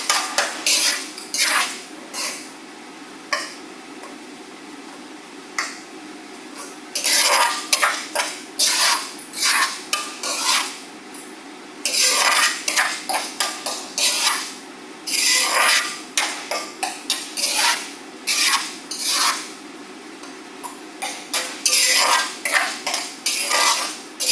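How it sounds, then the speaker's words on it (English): Knife chopping ginger into small pieces on a board in a home kitchen, with irregular bursts of quick, sharp taps close by, separated by short pauses. "I'm going to cut it into small pieces with my knife"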